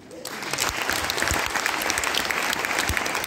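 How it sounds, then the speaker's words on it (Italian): Warm audience applause at a Liceo Amaldi school event in Tor Bella Monaca, a dense continuous patter of many hands clapping that starts abruptly and holds steady at moderate volume. "vorrei un applauso caloroso al nostro presidente"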